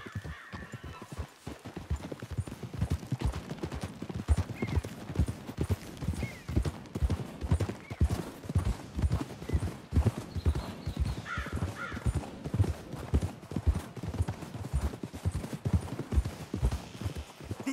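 Several horses trot steadily through the Red Dead Redemption 2 video game, their hooves beating in a fast regular rhythm close by for the whole stretch, with faint ambient sound and occasional light tack rattle underneath.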